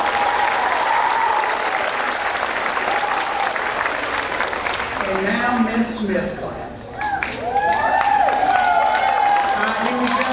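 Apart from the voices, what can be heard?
audience applause at a school graduation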